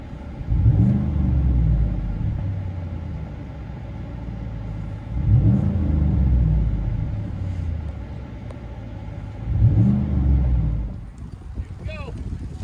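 A 2015 GMC Sierra Denali pickup with a 6.2L LS V8 and dual Flowmaster Super 44 exhaust idles with a deep rumble, rising in three loud revs spaced a few seconds apart, heard close up.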